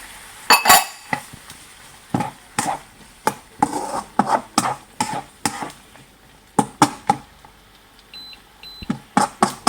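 Repeated clinks and scrapes of a utensil stirring quinoa, carrots, celery and tomato in a pan in an irregular rhythm, close by, with a few faint beeps near the end.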